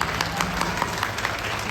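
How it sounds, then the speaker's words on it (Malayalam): An audience at a TV serial's 1000-episode celebration claps steadily, a dense patter of many hands with a few sharper, closer claps standing out in a loose, slightly rhythmic pattern. "നല്ലൊരു ക്ലാപ്പ് കൊടുത്തേ."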